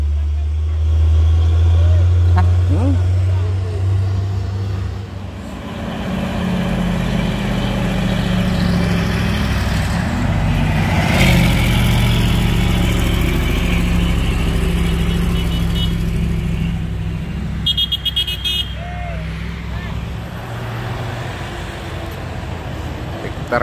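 Heavy trucks and a tanker trailer grind up Bukit Kodok hill, their deep engines loud and steady throughout under traffic noise, with a revving swell midway and voices talking over it.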